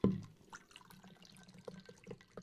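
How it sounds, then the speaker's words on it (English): Sparkling apple juice poured into a martini glass makes a short fizzing trickle with scattered light drips after a brief splash at the start. No one speaks. "let's pour us up our apple mocktail martini"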